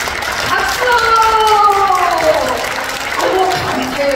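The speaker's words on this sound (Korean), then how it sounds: "박수." An audience applauds in front of an outdoor stage at the Jeongseon Arirang festival, a continuous, fairly loud wash of clapping and crowd noise, with a voice speaking and drawing out words over it.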